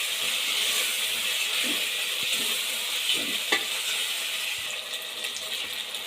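Tomato masala with turmeric and garam masala fries in a pan, giving a steady, close sizzle throughout, with a few soft scrapes of a spoon stirring it. No one speaks.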